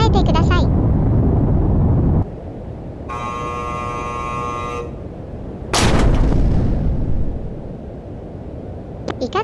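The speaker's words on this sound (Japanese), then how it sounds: "次に、主砲の展示射撃を見てみましょう。" Main guns of the battleship Nagato firing during a virtual-reality ship tour: a heavy, loud blast that booms and then rolls away, set against steady low background noise and a brief electronic hum.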